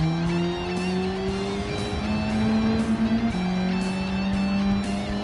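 Race car engines hold steady high notes with gear changes and slight tire squeal in Gran Turismo 7, a continuous close drone with other cars nearby, no talking.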